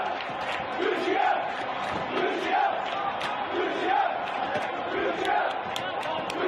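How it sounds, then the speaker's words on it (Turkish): Large stadium crowd in the Tabriz stands chanting for Türkiye, a dense mass of voices rising and falling in a steady repeated rhythm, loud and continuous throughout. "Azerbaycan Türkleri yaktıkları meşalelerle dakikalarca Türkiye tezahüratları yapıp asker selamı verdi"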